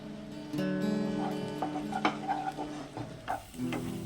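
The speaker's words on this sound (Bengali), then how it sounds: "মশলা থেকে তেল সেপারেট হয়ে এসেছে অর্থাৎ মশলাটি খুব ভালোভাবে কষে নেওয়া হয়েছে" Spice masala with turmeric, salt and Kashmiri chili powder frying in oil for a fish roe curry, a quiet sizzle under clinking stirring strokes, with a steady tonal hum in the background.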